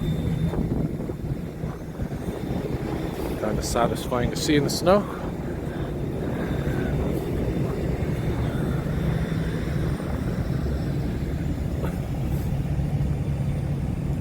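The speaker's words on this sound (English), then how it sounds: "you can just observe some of the buses going by here" Coach buses roll past on a snowy Montreal street at night in the Saint-Laurent sector, a steady low engine rumble and slushy tire noise continuing throughout, with a person speaking briefly over it.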